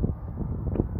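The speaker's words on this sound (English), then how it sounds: "Sorry about the wind" Wind buffeting an outdoor microphone, a brief low rumbling roar that fills the whole second.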